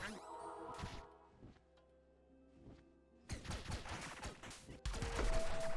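Shooting and explosions from the Owlboy video game: scattered thuds and blasts at first, then dense, loud bursts of rapid firing and crashing in the second half.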